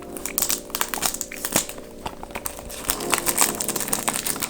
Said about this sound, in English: Let's go ahead and open up the plastic here.